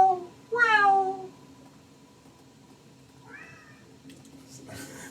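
A cat meows as a sound effect during a tabletop role-playing session, with two drawn-out rising meows close and clear, followed by a softer, shorter mew and faint background noise.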